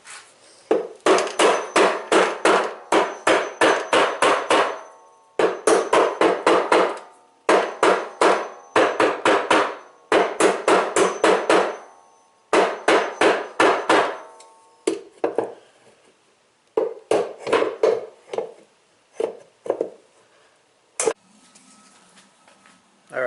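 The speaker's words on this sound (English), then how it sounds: "Let's see if I can loosen it with a couple of hammer taps here." Hammer taps on the transmission drive hub of a Maytag Centennial washer: loud, sharp metallic strikes in fast rhythmic bursts separated by short pauses, then slower, more spaced single hits.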